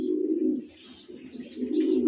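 Young racing pigeons cooing close by in a loft, a steady low throaty coo that swells and dips across the moment, with faint chirps above it.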